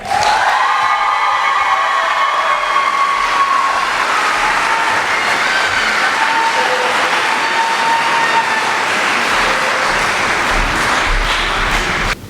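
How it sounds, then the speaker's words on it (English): A graduation ceremony crowd at Odyssey Jr/Sr High in 2022 gives a graduate a loud, dense wash of sustained applause that runs unbroken for about twelve seconds, with faint whistle-like tones mixed in. "Please give a round of applause to Michaela Ritter"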